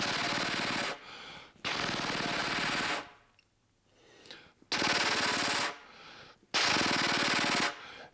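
Flutter-tongue buzz on a brass instrument, three long, loud, raspy bursts of rapid rolling pulses like a jackhammer, separated by short pauses and a quieter stretch of breathy air in the middle.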